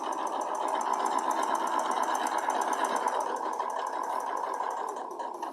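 A sewing machine stitching curved seams on a pink quilt block runs as a steady, close mechanical whir with a fast rhythmic ticking, easing off slightly at the end.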